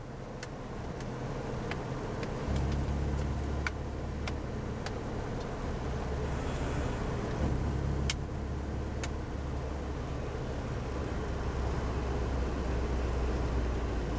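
A 1968 MG B GT drives along at a steady pace, its engine a continuous low drone with faint clicks and road noise and no voices.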